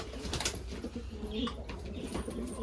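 Soft, low pigeon cooing close by in a coop, with faint rustling and light background noise, fairly quiet throughout.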